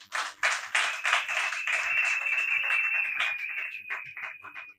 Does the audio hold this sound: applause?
yes